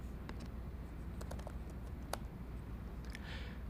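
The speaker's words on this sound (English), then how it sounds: "I'll click in cell A2 and type my first name like this" Quiet, scattered keystrokes on a computer keyboard while entering a name into a spreadsheet, heard over a low steady background hum.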